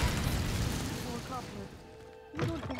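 The Incendio fire spell goes off in the Hogwarts Legacy video game: a heavy fiery whoosh-boom at the start fades over about a second, then a second burst flares near the end, with tonal game sounds between.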